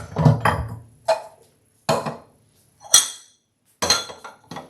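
Dishes, pots and utensils are set down in a kitchen sink with a handful of separate knocks and clinks, spaced about a second apart, fairly close and with no talking.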